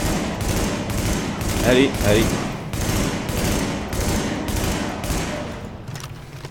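Automatic weapon fire in the video game The Division, a fast, regular stream of loud gunshots in repeated bursts, with a brief spoken word over it.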